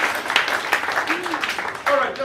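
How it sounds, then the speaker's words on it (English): Scattered audience applause breaks out as a man is called up to the stage, uneven clapping mixed with talking voices and a brief tonal whistle-like sound. "Clap for him."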